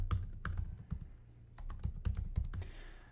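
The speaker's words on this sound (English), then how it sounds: "I'm going to type in my email." Fingers type on a computer keyboard, a quick, irregular patter of close, crisp key clicks with short pauses.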